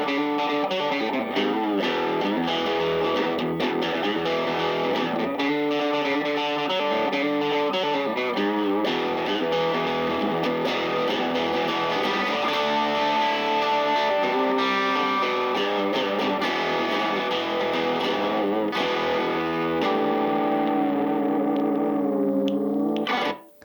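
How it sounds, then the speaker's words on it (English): A Gibson Melody Maker electric guitar plays with distortion continuously for over twenty seconds, gritty and loud, with sustained chords and riffs before stopping abruptly. "with little distortion, they got a really dirty, bitey kind of a sound to them."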